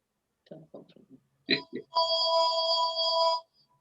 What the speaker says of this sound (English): Somebody's got a phone ringing.